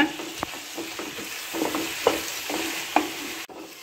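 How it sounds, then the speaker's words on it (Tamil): Curry leaves, mint and coriander sauté in a pan for a pepper chicken gravy, an even sizzle punctuated by repeated spatula scrapes and clinks against the pan, close with no voices. "கருவேப்பிலை, புதினா, கொத்தமல்லி எல்லாத்தையும் சேர்த்து நல்லா வதக்கிக்கிங்க"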